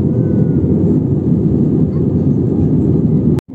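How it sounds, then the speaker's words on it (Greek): A jet airliner takes off from a large airport runway at night, giving a steady, loud roar of engine rumble throughout that cuts out abruptly near the end. "ένα άλλο αεροσκάφος το οποίο έχει απογειωθεί και αυτό από έναν άλλο διάδρομο"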